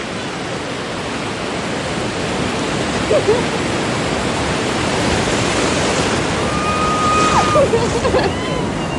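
Steady broadband roar of surf at Gokarna beach, with waves washing in continuously and a few faint higher sounds over the top near the end.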